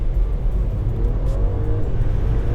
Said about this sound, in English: On the E450, all you need to do is just step on the gas.